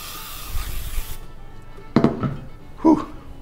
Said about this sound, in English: I'm going to spray it with some avocado oil.